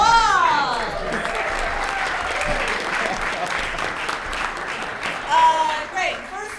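An audience at an improv show in Copenhagen applauds two volunteers with steady dense clapping and scattered whoops, with voices talking over the start and end.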